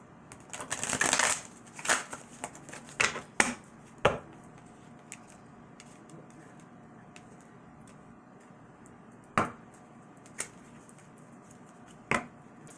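Tarot cards are shuffled and handled close up: a dense flurry of riffling and flicking at first, then scattered single snaps and taps as cards are drawn and laid down, with quiet gaps between them.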